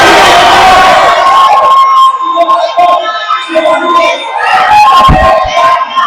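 A tech-conference audience at a DevFest in Ilorin shouts their own names all at once, a loud jumble of overlapping voices that bursts out and then breaks into scattered calls and cheers.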